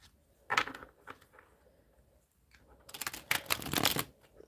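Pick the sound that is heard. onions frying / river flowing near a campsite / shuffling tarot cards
shuffling tarot cards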